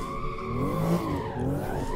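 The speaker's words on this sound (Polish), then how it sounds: "Oj, hamulce nam skrzypią." Brakes of a BMW M2 squeak and squeal in the Assetto Corsa racing game on a drift park track, a wavering tonal screech with rising and falling pitch lasting about two seconds over engine and tire noise.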